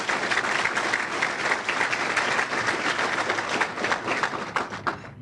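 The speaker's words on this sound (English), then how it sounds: "So give them a round of applause for that." Applause from a crowd at an investor luncheon in a banquet room, many people clapping steadily at a moderate level for about five seconds, dense and even before tapering slightly at the end.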